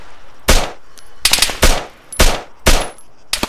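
Loud, close gunshots in the video game Arma 3 crack in irregular bursts, roughly six to eight heavy reports with short gaps between them, standing alone without talk.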